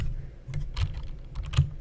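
Keys clatter on a computer keyboard as someone types during an online chess game, a steady run of close, crisp clicks over a low background hum.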